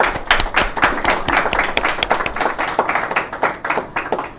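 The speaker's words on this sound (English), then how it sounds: "I want to invite the audience and the panel to give them a round of applause." Audience and panel at an International Women's Day panel discussion clap loudly and steadily, many sharp overlapping claps forming a dense, close round of applause throughout.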